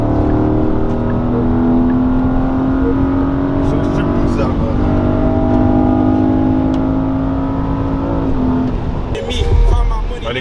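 A car accelerating on the road, its engine droning and building steadily, heard from inside with a louder rumble near the end and voices talking over it.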